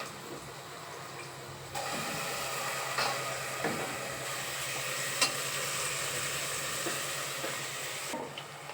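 Ginger garlic paste frying in a hot pan for chicken biryani, a steady close hiss and crackle with occasional stirring scrapes and soft clicks, no talking.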